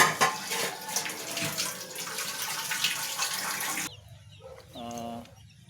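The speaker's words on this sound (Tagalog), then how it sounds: "sugasan muna natin to" Tap water runs steadily while papaya is washed for a green papaya coconut-milk vegetable dish, a broad close splashing that stops abruptly, after which a rooster crows nearby.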